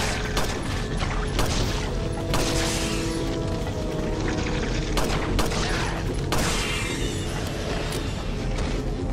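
Gunfire in Resident Evil 4, repeated sharp shots at irregular intervals over a busy background of clanks and mechanical game noise, fairly loud and close.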